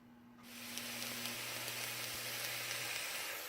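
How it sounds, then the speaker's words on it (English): Onion, jalapeno, habanero, bell pepper and garlic sizzle steadily in a hot Dutch oven, a dense close hiss that swells in after a brief quiet start and holds evenly throughout. "So we're going to get the vegetables started in the Dutch oven."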